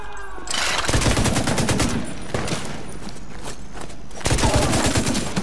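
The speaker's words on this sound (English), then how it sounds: "That's probably a bunch of people are shooting at me." Rapid bursts of gunfire from several weapons in The Division 2, dense and continuous, loud and close, with brief shifts in intensity and no talk.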